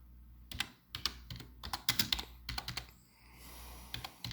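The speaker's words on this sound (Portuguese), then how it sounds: "Eu não sei se eu tô digitando correto." Close, crisp keystrokes on a computer keyboard come in rapid uneven bursts with a brief pause partway through, then a few more taps, with no voice over them.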